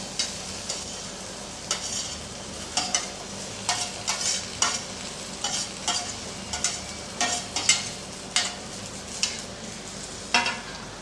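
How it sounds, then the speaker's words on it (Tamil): Spoon stirring mashed boiled potatoes into a potato poori masala in a pan, with repeated sharp scraping strokes in an uneven rhythm over a faint steady sizzle, close by. "இது எல்லாத்தையும் சேர்த்து நல்லா கலந்து விட்டுறலாம்."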